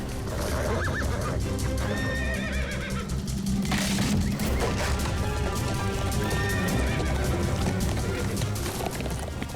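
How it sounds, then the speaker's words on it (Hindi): Several horses whinny and neigh in a stable, with hooves clip-clopping and shuffling on the ground, a dense busy soundscape that stays loud throughout, with one especially shrill neigh standing out near the middle. "अस्तबल से घोड़ों की आवाज।"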